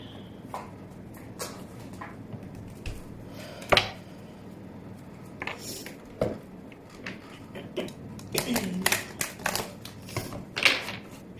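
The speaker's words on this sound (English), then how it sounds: "I'm going to be pulling some cards for singles, others for couples, and so on." Tarot cards shuffled and drawn during a Pisces romance reading, giving soft, irregular riffling and snapping card sounds with scattered slaps, close and without talk.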